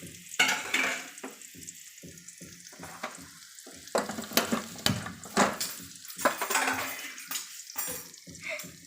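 Onion, ginger and garlic sautéed in a pan for a Chinese noodle dish, with a steady sizzle broken by repeated stirring scrapes and a few pan clatters, close and fairly loud, with no talking.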